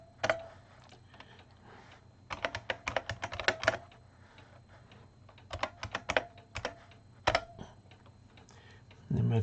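Typing on a computer keyboard in quick bursts of clicky keystrokes, separated by short pauses and ending in a brief louder noise.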